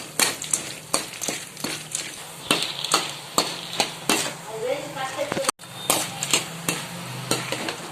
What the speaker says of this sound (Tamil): அந்த கடலைப்பருப்பு எல்லாமே நம்ம இது கூட வேர்க்கடலை கொஞ்சம் பொன்னிறமாக வர வரைக்கும் நம்ம இதை வறுத்துக்கலாம்